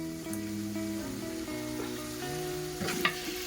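Cumin seeds tossed into hot oil with bay leaf, curry leaves, cloves, pepper, green chillies and onion, a steady close sizzle on a wood-fired stove, with some tonal hum running under it and a brief stir near the end.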